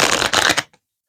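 Lightseers Tarot cards being shuffled by hand, a brisk dense riffle of rustling card stock lasting about half a second, close and fairly loud, then a faint tap before silence.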